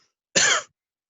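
A single short cough, close and fairly loud, with no other sound before or after.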